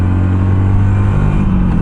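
A Harley-Davidson Sportster Classic motorcycle rides along, its engine a loud, close, steady low rumble with a slight rise in pitch near the end and no voices.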